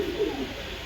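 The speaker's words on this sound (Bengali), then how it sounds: "এই দেখেন এখানে এক পেয়ার কবুতর দিলাম।" A pair of red-eyed racer pigeons cooing softly and close by, a brief rolling coo over quiet background.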